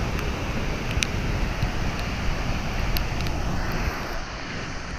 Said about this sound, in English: This water from this waterfall is going below.